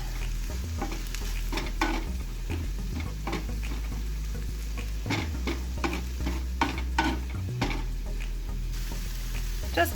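Tofu and garlic being stirred in a frying pan make a continuous close sizzle, with repeated scraping and clacking of a utensil against the pan and a low rumble underneath.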